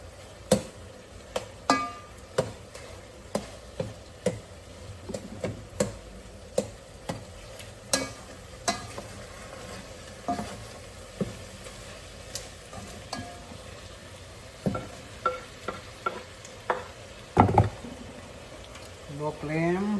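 Garlic sautéing in a pan for ginataang laing, stirred with repeated sharp scraping clicks at a steady rhythm over a soft, continuous sizzle, close and fairly quiet.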